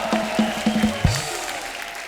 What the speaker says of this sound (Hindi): जोरदार तालियां संगीता जी के लिए हो जाए